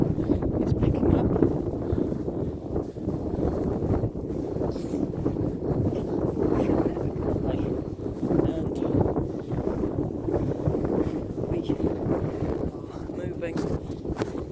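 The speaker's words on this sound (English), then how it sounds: "The wind is picking up." Strong blizzard wind on a snowy mountain, Arenig Fawr, roars and buffets the microphone without a break, loud and close, with footsteps in snow faintly beneath.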